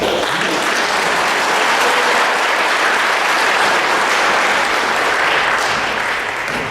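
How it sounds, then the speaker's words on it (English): Sustained round of applause from an awards ceremony audience, dense and loud clapping that holds steady for several seconds before easing slightly at the end. "he deserves a round of applause"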